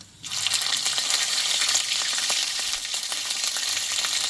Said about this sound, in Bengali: ফোড়নটা একটু ভালোভাবে আমি ভেজে নেব